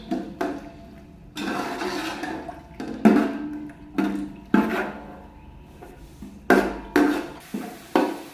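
A spoon stirs browning onions in a hot pan with repeated scraping strokes, about one per second, each a short clattery swish against the metal, close and fairly loud in a quiet kitchen.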